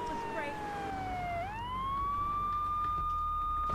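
A police car siren in the video game GTA 3 wails steadily, sweeping down and then rising back to a sustained high tone over a low rumble of game noise.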